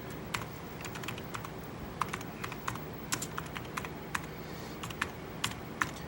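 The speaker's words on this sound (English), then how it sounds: "Just going to type in that command to make sure that we are up and running" An Amiga A1000 keyboard being typed on as a command is entered, with a quiet, uneven run of crisp individual keystrokes and short pauses, close-up with no talking.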